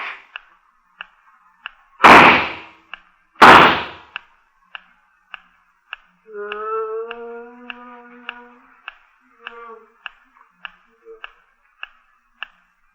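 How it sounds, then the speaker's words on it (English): Two loud, sharp gunshots ring out close together in a 1950s radio mystery drama, set against a steady ticking rhythm, followed by a wavering tonal sound effect. "I guess I scared it off with the gunshots."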